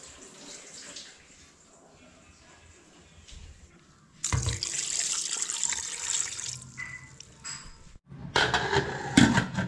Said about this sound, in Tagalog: Atin na lang po itong dadagdagan ng tubig.